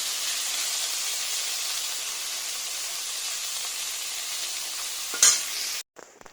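Paneer fries lightly in a pan with a steady, close sizzling hiss, broken near the end by a brief clatter before the sound cuts off.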